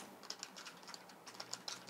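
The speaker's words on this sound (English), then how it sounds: "I can type on this pretty fast." Quick, light key clicks from the small keyboard of a Cosmo Communicator PDA tap out in fast irregular bursts, close and quiet, with no talk.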